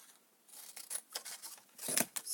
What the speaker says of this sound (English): little scissors to cut it out because that works best